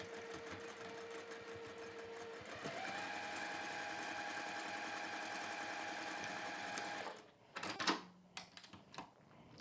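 A sewing machine stitches a cork and velvet pouch with a steady, close mechanical whir that rises in pitch as it speeds up, then stops and gives way to a few handling clatters and a brief voice.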